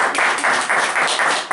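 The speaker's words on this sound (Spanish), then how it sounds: "Démosle un fuerte aplauso a Ricardo." An audience at a forestry talk gives a quick, dense burst of applause for a speaker. The clapping is brief and close.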